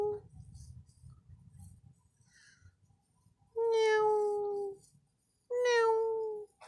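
A male stray cat meows twice, loud and close, each call drawn out, after a stretch of soft rustling and quiet background.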